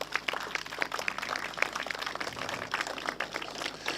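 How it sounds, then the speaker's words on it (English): A crowd outdoors at a highway connector ribbon-cutting gives highway workers a round of applause, a steady dense patter of clapping held at a moderate, somewhat distant level throughout. "So give them a big round of applause"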